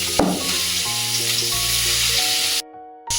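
Mustard oil sizzles in a pan, a bright steady frying hiss that begins with a sharp burst of crackle and holds for a few seconds before cutting off abruptly.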